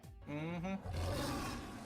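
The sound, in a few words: lion roaring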